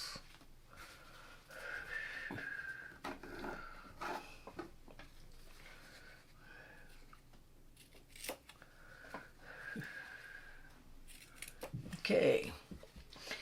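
Scissors snip material to trim a mini crown, a few quiet cuts scattered among soft handling noises and breathing while a person talks.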